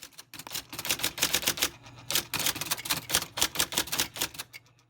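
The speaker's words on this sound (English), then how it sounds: "with a basic IBM Selectric 711 typewriter" An IBM Selectric 711 electric typewriter typing up close: rapid bursts of sharp mechanical key strikes in uneven clusters with brief pauses, over a faint steady motor hum, with no talking.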